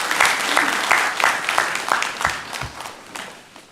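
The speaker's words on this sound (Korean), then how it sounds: "우리 영광의 박수를 우리 하나님께 올려드리겠습니다." Church congregation applauding during a Sunday worship service, a sustained burst of claps filling the room at a steady level before gradually thinning out.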